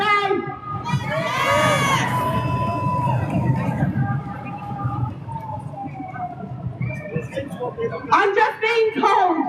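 A large crowd at a Free Palestine rally in Melbourne cheers and shouts loudly, with high voices rising in bursts and the noise building again near the end.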